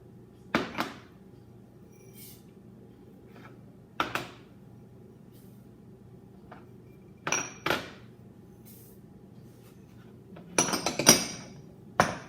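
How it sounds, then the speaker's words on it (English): Dry grains tipped into a pot of lima bean soup land in a few separate bursts of clinking and pattering against the pot, scattered across a quiet kitchen with gaps between pours. "now I'm going to put the grains in"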